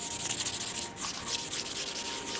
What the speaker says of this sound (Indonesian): permukaan yang kita mau lapisin ini kita amplas juga